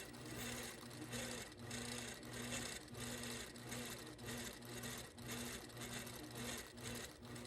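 Mid-arm quilting machine stitching ruler-work piano key fill on a quilt, a steady rapid mechanical chatter pulsing in short runs with brief pauses between, faint and close.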